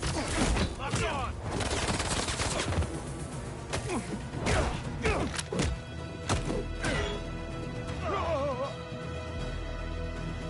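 Dense, continuous turret gunfire in Spider-Man 2, loud and close, mixed with crashes, impacts and a busy game soundtrack, with voices talking over it.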